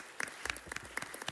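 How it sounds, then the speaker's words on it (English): Audience applause for city councilmen at a city meeting, a short burst of scattered hand claps with distinct individual slaps, fairly faint and brief. "Let's give them a round of applause."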